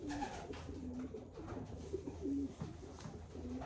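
A Janssen-based racing pigeon coos softly in a loft, several low rolling calls repeating over faint background noise.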